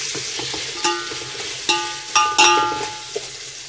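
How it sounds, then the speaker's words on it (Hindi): Carrot and other vegetables sautéing in a pan with turmeric for bhagara rice, a soft steady sizzle broken by several sharp clinks of a spoon against the pan, close and alone. "अब इसको ऐसा 5 to 10 मिनट तक अच्छा सॉटे कर लेना।"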